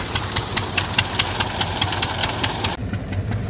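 A tractor engine runs steadily with rattling and regular knocking pulses, fairly close and loud, beside a groundnut harvesting machine in a field, then the sound dulls abruptly near the end.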